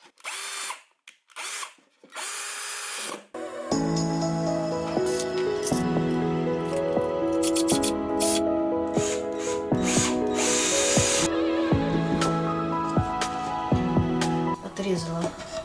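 A cordless screwdriver fitted with a countersink drill bit bores holes in wood for a flower box, whining steadily for several seconds after a few short bursts, with someone talking over it.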